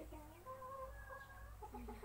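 A Silkie chicken clucks softly several times in short, rising murmurs, close by and fairly quiet, with a low hum underneath.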